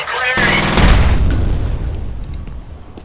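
A grenade explosion followed by gunfire in the F.E.A.R. video game: a sudden loud blast, then rattling shots and a long rumbling decay, close and dominant.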